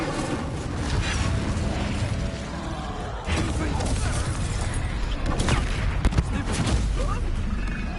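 A fire spell cast in the video game Hogwarts Legacy, a dense, roaring blast of booming, crackling effects that surges after a brief dip, over continuous game noise.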